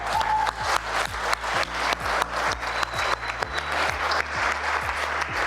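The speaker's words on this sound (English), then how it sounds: "And there's a round of applause." A gym audience of about 164 people gives a sustained round of applause during a presentation, dense steady clapping that fills the room throughout, with a low hum underneath.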